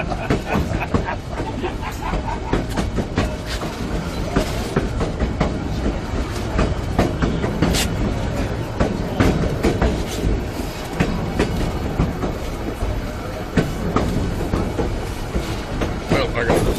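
A White Pass & Yukon Route work train clatters along the rails with rapid, uneven clicks and rumbling, loud and close throughout, with occasional voices mixed in.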